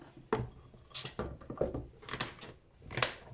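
A pan of pork chops in sauce is covered with its lid, giving a few close metallic clanks and knocks of cookware against the pan.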